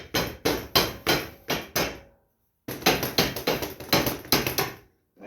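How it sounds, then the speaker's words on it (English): Sharp metallic hammer taps knock a steering wheel bushing off a Craftsman GT riding lawn mower, in two close bursts of about six quick strikes each, split by a short silent pause, with no talk. "We're going to tap this little bushing off"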